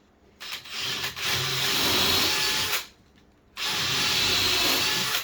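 A power drill drives 100mm screws into 3x2 timber framing during window replacement in a brick house, with two long, loud, close whirring runs separated by a short pause.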